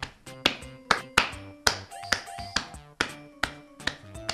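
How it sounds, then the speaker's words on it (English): A quick run of about a dozen sharp hand claps or taps, close and fairly loud, in an uneven rhythm against a steady musical background. "When you clap your hands, a sound is produced."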